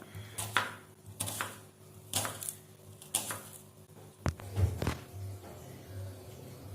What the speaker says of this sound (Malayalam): ഇനി ചമ്മന്തിക്ക് വേണ്ടി ചെറുള്ളി ചെറുതായി അരിഞ്ഞെടുക്കാം.